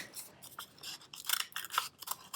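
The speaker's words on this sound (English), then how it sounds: "And now we're going to cut around that eye shape." Scissors cut steadily through paper around an eye shape for a paper mask in rapid, repeated crisp snips, close and clear with no voices.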